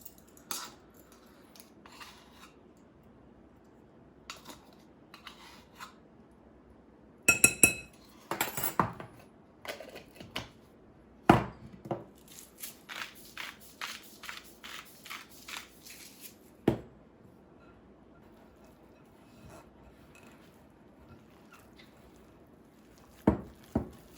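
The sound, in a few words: mixing almond flour keto bagel dough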